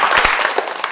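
Audience applause at a spiritual talk, a dense wash of clapping with a few sharper individual claps standing out, steady and fairly loud across the second.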